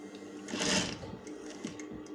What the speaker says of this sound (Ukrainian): Прокладаємо по периметру строчку, скріплюючи деталі підхвату